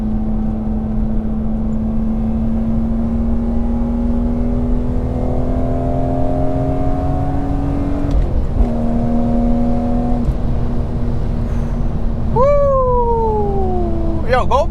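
A BMW E46 M3 engine drones loudly at high RPM with a rising pitch, drops briefly on a gear change, then climbs again before a sharp downshift. A voice is audible beneath it.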